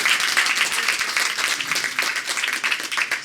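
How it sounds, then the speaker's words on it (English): Applause from the audience at an Andre Guichard art exhibition: a modest gathering clapping briskly and unevenly, close and fairly loud, for a few seconds without any speech. "So those all deserve a big round of applause for sharing your collection"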